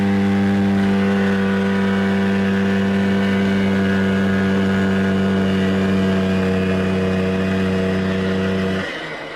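A Polaris 250cc two-stroke, oil-injected quad four-wheeler with belt-drive CVT idling steadily, a close, continuous buzzing engine drone that cuts off abruptly at the end.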